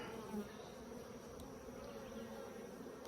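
Honeybees drone steadily around an opened four-frame nuc hive, a continuous close buzz with no voices over it.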